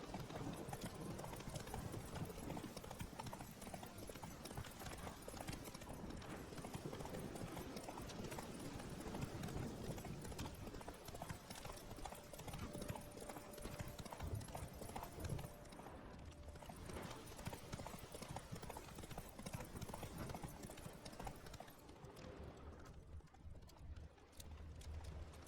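Roach the horse gallops in The Witcher 3, hooves beating a fast, steady clip-clop rhythm that carries on without a break, set against a busy wash of game ambience and occasional mechanical clicks.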